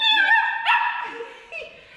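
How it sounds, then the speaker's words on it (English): Small puppies at a farm pumpkin patch, close by, giving high-pitched whimpers and yips in a couple of short bursts. "they have some puppies here. I'm holding a puppy."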